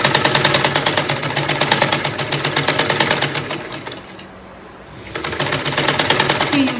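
A sewing machine stitching crinoline onto a peplum runs in fast, loud, rapid-fire bursts, slowing and pausing briefly near the end before starting up again.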